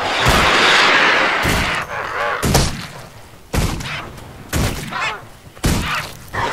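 A Thief's pistol fires Vital Shot in Guild Wars 2: five loud, punchy shots spaced about a second apart, each with a sharp crack and a short ringing decay.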